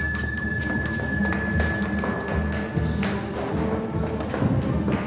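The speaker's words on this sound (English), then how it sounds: "who's ringing the bell?" A bell rings repeatedly in a room, bright sustained tones struck several times in the first few seconds and again around the third, mixed with dull thumps and taps.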